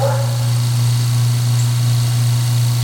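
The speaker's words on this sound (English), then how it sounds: "Shut the pump off." A vacuum pump runs steadily while bleeding a Kayaba shock absorber from a Yamaha YZ250 dirt bike. It makes a loud, continuous low mechanical hum with no break and no voices.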